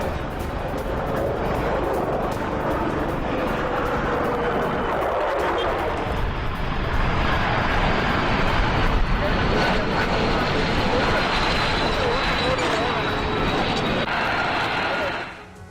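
American F-series fighter jets fly in a NATO air drill, making a steady, loud, broadband roar that holds for the whole stretch, with a voice talking over it.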